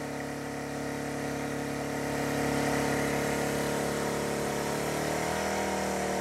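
A Champion 2500W dual fuel generator runs on propane under load, a steady close mechanical drone with buzzing vibration that swells slightly in loudness partway through and then holds.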